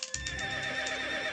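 A horse in a video game lets out a neigh, a bright whinny that sounds close and clear over a steady game backdrop, with faint hoof clops at the start.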